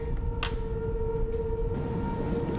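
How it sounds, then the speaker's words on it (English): Storm warning sirens sound over heavy rain and wind in Little Chute, a steady wailing tone held under a constant roar of weather noise. "There are the sirens going off."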